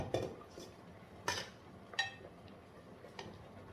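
Sparse clinks of a spoon or ladle against pots and plates as cooked rice and stew are dished out, four or five distinct taps spaced over a quiet background.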